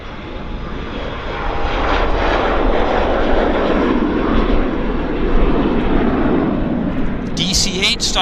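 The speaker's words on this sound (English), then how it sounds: "DC-8 style takeoff." An airliner taking off at Vancouver Airport, its jet engines building into a loud, sustained roar that fills the whole stretch. A voice speaks briefly under the noise near the end.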